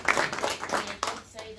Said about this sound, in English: thank you, everyone deserves a round of applause.